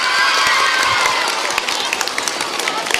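Crowd applause and cheering for a maths teacher, loud dense clapping mixed with shouts that tapers slightly toward the end.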